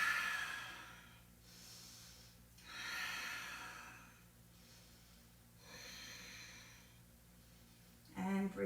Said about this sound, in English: finding your balance, navel draws to the spine, breathing in and breathing out